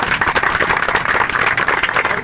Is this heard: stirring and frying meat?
no